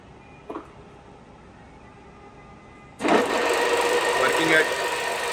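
A TOS FA4V vertical milling machine of Czechoslovak make spins its spindle at 500 rpm, starting suddenly with a loud, steady mechanical whir and hum after a quiet stretch with a brief knock.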